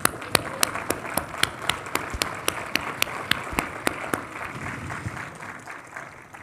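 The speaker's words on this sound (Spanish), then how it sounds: "Vamos a dar un aplauso." A Spanish-speaking church congregation claps together during a service, loud, even rhythmic claps in unison over a busy background of crowd noise, then trailing off near the end.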